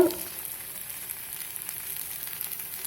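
Egg poured into a pan for a quick side dish, a faint, steady hiss of frying with small crackles throughout, no talk.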